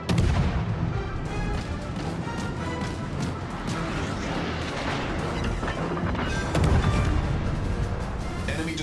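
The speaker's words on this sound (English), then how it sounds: "Enemy destroyer blown up." Heavy booming blasts and crashing gunfire as an enemy destroyer blows up during a naval battle in World of Warships: Legends, loud and dense throughout with a swell of explosions near the end.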